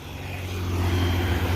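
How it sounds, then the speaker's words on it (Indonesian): Low, steady engine drone of an executive intercity bus pulling away from West Sumatra toward Jakarta and Bandung, loud and close with a deep rumbling hum that swells slightly. "bus eksekutif berangkat dari Sumbar"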